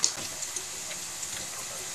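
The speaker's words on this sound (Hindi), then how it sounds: "अभी हम थोड़ा सा मूंगफली फ्राई कर लेते हैं भुजिया में डालने के लिए" Peanuts frying in hot oil for potato bhujiya give a steady, soft broadband sizzle and hiss throughout, with a few faint crackles and no talking.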